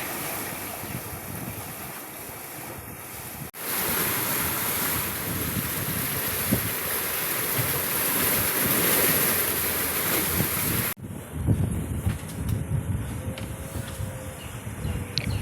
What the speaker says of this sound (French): les vagues et le vent